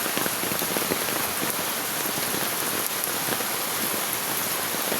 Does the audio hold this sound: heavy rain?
yes